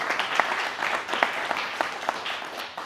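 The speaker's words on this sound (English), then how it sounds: "our next speaker, Dr. Tobias Krämer, who we can applaud now or congratulate because he just has been elected to the European Parliament" Audience applause at a conference panel, a steady wash of many hands clapping with sharp individual claps popping out, sustained for a few seconds at moderate distance without speech.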